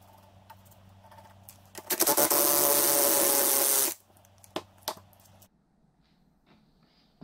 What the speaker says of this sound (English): And this one, I think we're gonna have to use the puller.